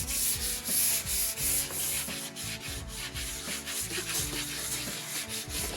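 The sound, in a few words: sanding wood slats with block sander, 140 grit sandpaper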